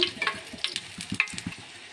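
Oil heating in a kadai on a stove for chicken curry, a soft close sizzle with faint stirring scrapes in short bursts.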